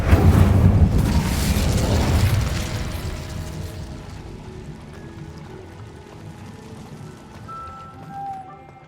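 Incendio fire spell cast in Hogwarts Legacy on Xbox Series X, opening with a loud, dense whooshing burst of flame that roars for about two seconds, then fades into a quieter rumbling tail.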